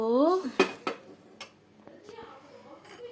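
Jackfruit seed and mango curry is stirred in a pot, giving a few sharp metal clinks and scrapes of a spoon against the vessel, loudest at the start, with a faint voice briefly audible near the beginning.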